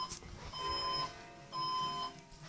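A fire alarm sounds indoors in two long, steady electronic beeps separated by a short gap. It is fairly quiet and no one speaks.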